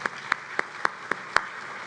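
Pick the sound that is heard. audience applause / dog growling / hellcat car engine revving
audience applause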